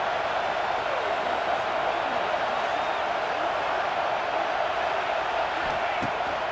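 A home stadium crowd roars steadily throughout a College Football 26 game between West Virginia and Virginia Tech. The broad, continuous cheering wash holds at an even level from start to finish.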